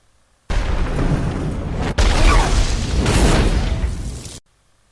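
Silver grenades detonate in an action scene from the film Underworld Awakening, a loud sustained roar of blasts with a sharp break midway before the rumbling resumes and cuts off abruptly.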